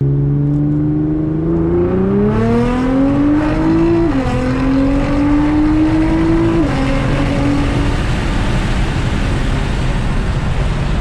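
A 2014 Nissan GT-R R35 Track Edition accelerates hard, its engine note climbing through the revs and falling at gear shifts. It sounds loud and close, with rising road and wind roar under it and no talking.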